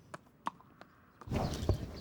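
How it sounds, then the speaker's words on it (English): Hooves of the horse Malaysia clip-clop at a slow walk, a few sparse, distinct hoof strikes, followed by a louder wash of broadband noise near the end. "Ali's different way is working with this horse, Malaysia."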